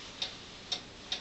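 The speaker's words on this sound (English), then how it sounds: "Black Forest Cuckoo clock that I have on eBay. I'm selling on eBay. This one is made by Hubert HERR" A Hubert Herr Black Forest cuckoo clock ticks quietly and evenly, three crisp ticks about half a second apart over a faint hiss, with no voices.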